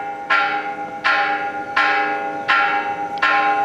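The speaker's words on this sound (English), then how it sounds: "That, believe it or not, is the church bell." A church bell in Peru strikes five times at an even, unhurried pace, each bright clang ringing on and decaying before the next, loud and clear with no talk.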